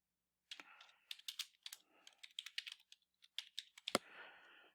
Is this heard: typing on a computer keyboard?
yes